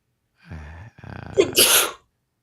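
One person sneezes indoors during a tabletop wargame session, a close, loud sneeze with a short voiced intake followed by a sharp, hissing burst.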